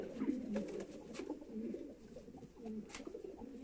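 A pigeon coos softly in low, rolling murmurs, close but faint, repeating continuously with no talk over it.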